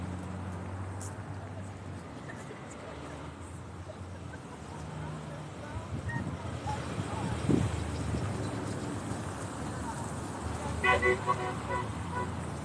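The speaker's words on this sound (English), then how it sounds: "honk for humanity" Car horns honk at an outdoor roadside freedom protest in Canada, a toot near the middle and a cluster of horn blasts toward the end, over wind noise and traffic rumble.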